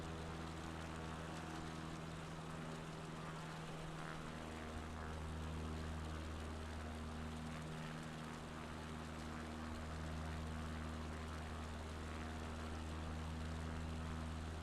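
A propeller plane engine in a flight simulator game, heard during a slow landing approach on a bush trip over Italy's Apennines, gives a loud, steady droning hum with shifting tone and no voices over it.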